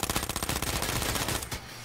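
Rapid automatic gunfire in the video game H1Z1, a steady rattling burst of evenly spaced shots, loud and close, cutting off near the end.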